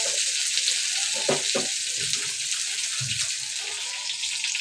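Bangda mackerel fish fry in oil on a low gas flame with a loud steady sizzle throughout, and someone speaks softly underneath.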